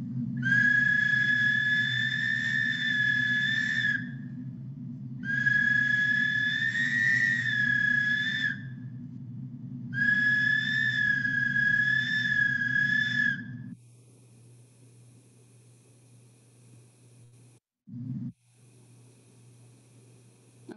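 A pre-Hispanic ceramic whistle with a hollow body and whistles set in the ears, played in three long, steady, piercing blasts separated by short pauses, followed by near silence.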